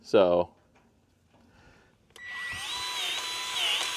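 A new grease gun working on a clogged zerk fitting: after a brief spoken word, a motorized whine starts abruptly and holds steady with slight pitch wavers, close and fairly loud.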